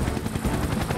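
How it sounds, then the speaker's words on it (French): Cartoon helicopter flying, a steady whirring rotor chop with dense broadband noise, continuous and fairly loud through the short moment with no voices. "Avec l'hélicoptère de Tom."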